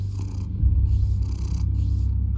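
A cat purrs in the Batman Telltale Series video game, a close, low rumbling vibration that pulses steadily in rhythmic breaths, alone without any talk.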